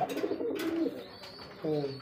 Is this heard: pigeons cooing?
yes